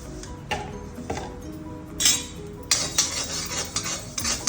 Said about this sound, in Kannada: ಸ್ವಲ್ಪ ಸಾಸಿವೆ, ಒಂದು ಕಟ್ಟಕ್ಕೆ ಮಾತ್ರ, ಸ್ವಲ್ಪ ಎಳ್ಳು, ಇದೆಲ್ಲ ವಿತೌಟ್ ಎಣ್ಣೆ ಫ್ರೈ ಮಾಡೋಣ.